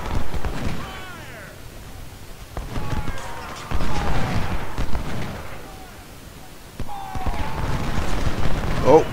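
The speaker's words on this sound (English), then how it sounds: "Oh, good shot there, Ben Hill." Musket volleys in the Civil War strategy game Ultimate General: Civil War at the Battle of Shiloh, rolling crackling bursts of massed fire repeating several times over a continuous din of battle, with a voice at times.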